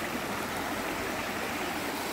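A forest river rushes steadily near Mount Si, Washington, before sunrise, a dense, even wash of flowing water that stays loud and continuous throughout, with no voices.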